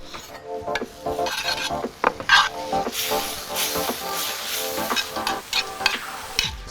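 Pork belly sisig being mixed with mayonnaise and calamansi juice in a hot pan, a continuous scraping stir with sizzling, rubbing utensil strokes and occasional metallic clinks, close and fairly loud, with no talking.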